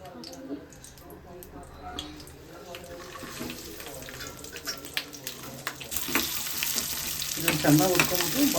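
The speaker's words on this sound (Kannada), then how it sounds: "ಮಸಾಲೆಗೆ ಬೆಳ್ಳುಳ್ಳಿ, ಜೀರಿಗೆ, ಮೆಣಸು, ಕರಿಬೇವು, ಒಣಮೆಣ್ಸಿಕಾಯಿ, ಕಾಯಿ, ಈರುಳ್ಳಿ ಇದಿಷ್ಟನ್ನ ಎಣ್ಣೆ ಹಾಕಿ ಫ್ರೈ ಮಾಡ್ಕೋಬೇಕು" Garlic, cumin, pepper, curry leaves, dried red chillies, coconut and onion fry in oil, a soft sizzle with stirring and scraping that grows louder toward the end.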